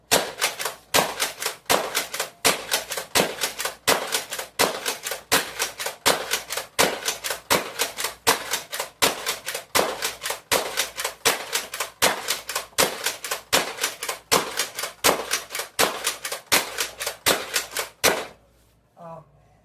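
A Dart Zone Max Striker 2.0 blaster rapid-fires amber foam darts at 200 FPS, a fast, steady burst of sharp, close clacks running about eighteen seconds before cutting off abruptly.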